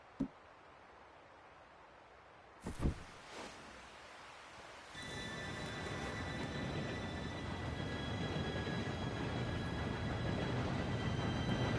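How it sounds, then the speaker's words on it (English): A train arriving in the Red Dead Redemption 2 game: a couple of sharp knocks, then a steady, swelling rumble and hiss with high metallic squeal tones, growing louder as it draws near. "Train should be here any minute now."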